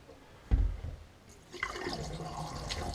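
Tap water turned on in a vacation house being closed down for freezing weather, starting with a thud and then running steadily into a drain with a broad rushing splash that continues to the end.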